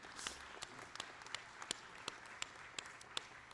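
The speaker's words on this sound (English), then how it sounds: "I know you're applauding" Faint applause drifts through a college convocation hall during a presidential investiture, with a thin wash of clapping and a few sharper individual claps standing out at irregular intervals.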